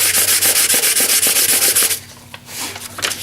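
Copper pipe being rubbed with 220 grit sandpaper in quick, loud back-and-forth strokes for about two seconds, then stopping, leaving only faint handling noise.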